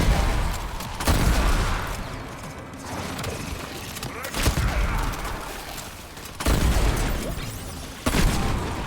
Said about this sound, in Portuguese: Ó, atravessa a parede, explosão.